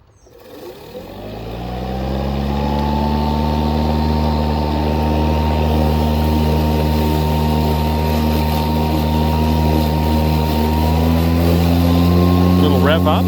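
A Toro 60V Vortex 22-inch recycler battery lawn mower spins up from silence to a steady, loud electric whine with a low motor hum that holds evenly and rises slightly near the end.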